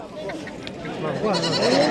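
Lambs and goats bleat amid the bustle of a busy livestock market, with several overlapping animal calls under steady crowd chatter and nearby voices talking.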